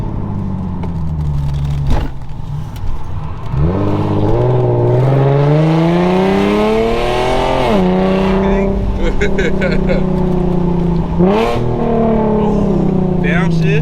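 An Infiniti G37 with muffler and resonator deleted revs hard, climbing and dropping through several loud pulls with sharp downshift blips, close and raw, while people talk over it.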